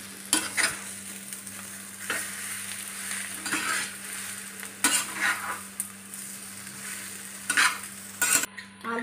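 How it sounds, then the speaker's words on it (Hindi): Mashed potato is stirred and fried in a pan, with repeated spatula scrapes over a steady close sizzle and a faint constant hum beneath. "अब आलू मैश किया हुआ डाल देंगे और अच्छे से मिला देंगे"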